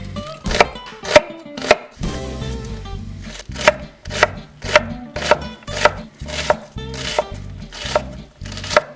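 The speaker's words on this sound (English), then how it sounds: "Nice size onion. We're gonna chop that up real nice." A knife chops an onion on a cutting board in quick, regular sharp thunks, close and loud, with brief pauses between bursts of cuts.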